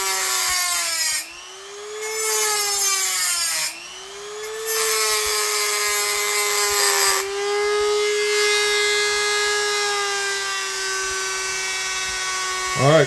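A Dremel rotary tool grinds on a knife blade, its high, bright whine dipping under load and twice briefly dropping away before steadily climbing into a faster, higher-pitched run, close and loud.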